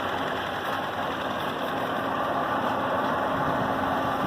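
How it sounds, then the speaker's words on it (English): A rebuilt Roskamp 9X24 two-pair high roller mill runs steadily, its motor and re-corrugated rolls making a smooth, even hum and whir with a faint knocking texture at constant loudness throughout, no voices. "Here we have the unit running. Everything is running nice and quiet and smooth."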